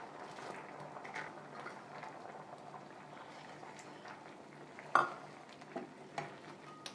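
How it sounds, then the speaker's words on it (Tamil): Leftover mixed sundal being stirred into a simmering kurma in a pan, soft bubbling with scraping stirs and a sharp clink of a spoon against metal midway, fairly quiet and without speech. "இப்போ இந்த சுண்டல்லாம் சேர்த்துட்டு நல்லா கலந்து விட்டுக்கலாம்."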